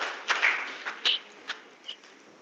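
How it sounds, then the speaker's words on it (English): Applause at the inaugural program of the 48th Annual OMS Conference, after a memento is presented to a professor: light, fairly faint clapping from an audience, with a few distinct louder claps standing out. "Can we have a great round of applause"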